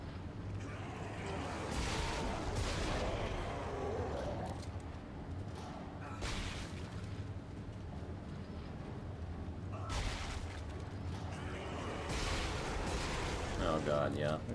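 Heavy booming blasts from the force gun in the sci-fi horror game Dead Space 2, several deep bursts spaced seconds apart, with someone talking over the action.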